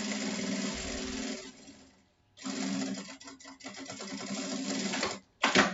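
A sewing machine stitches a nylon fabric book cover with a 3.5 closing stitch: a steady, close mechanical whir runs in two long stretches, broken by a brief pause and a quick final burst.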